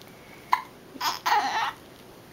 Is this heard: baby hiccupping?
yes